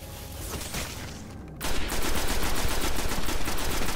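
Rapid science fiction gunfire from the Destiny alpha video game, a dense automatic stream after a brief lull, loud and close, with no talking.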